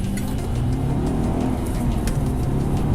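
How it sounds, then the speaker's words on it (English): A 2013 Holden Commodore VF SSV Redline's 6-litre V8 engine drones and revs steadily at close range, a deep rumbling growl with rising and falling pitch throughout. "So the 6-litre V8"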